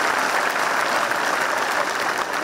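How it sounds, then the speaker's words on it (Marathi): Loud, dense applause from an audience welcoming Maharashtra cabinet minister Aditi Tatkare at a public event, steady and continuous throughout with no speech. "जोरदार टाळ्या वाजवून त्यांचं या ठिकाणी स्वागत करूया"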